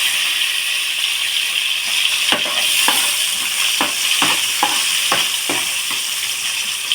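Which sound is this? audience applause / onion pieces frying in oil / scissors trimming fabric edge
onion pieces frying in oil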